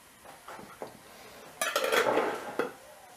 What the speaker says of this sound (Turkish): Şunları bir güzel karıştırıyoruz.